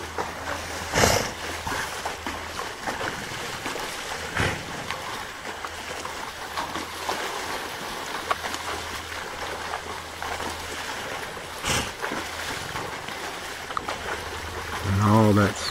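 Hippos packed together in a Serengeti river splash water with their tails while defecating, giving repeated wet slaps and sprays over a steady flowing-water background, with a few louder bursts.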